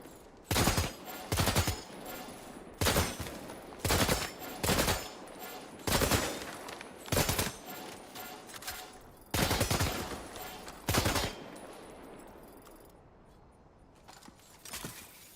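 Gunfire in a video game: a dozen or so loud, short bursts of automatic shooting in a stop-and-start rhythm, separated by quieter gaps, with the bursts thinning out near the end.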